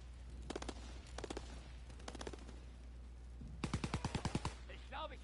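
Bursts of machine gun fire in a WWII video game, several short rapid volleys followed by a louder, closer burst of about ten shots over a steady low hum.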